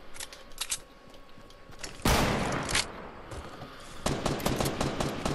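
Bursts of video game gunfire, sharp rapid volleys in a duo shooter match, with a short burst early, a loud sustained barrage in the middle and another dense burst near the end over faint background game noise.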